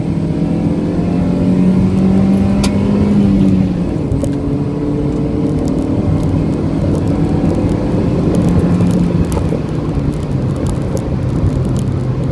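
A 2009 Kia Rio with a 1.4 litre Hyundai G4 double overhead cam engine accelerates, a loud, continuous engine drone with tones that slowly rise and shift, heard alone.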